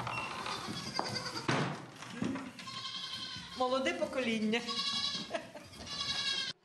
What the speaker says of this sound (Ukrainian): Нині ж у господарстві з півсотні кіз особливої молочної породи.